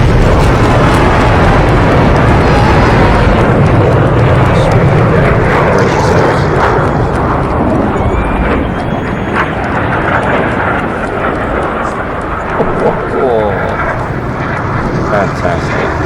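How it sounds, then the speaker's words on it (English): An F/A-18C fighter jet dives into a high-speed pass, its loud, steady engine roar filling the whole stretch and fading slightly toward the end, with a voice talking underneath. "diving here for another high-speed pass"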